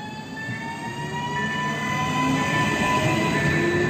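SKM passenger train pulling into Warszawa Reduta Ordona station, a loud, close rumble of wheels on rails with sustained high squealing tones building steadily throughout.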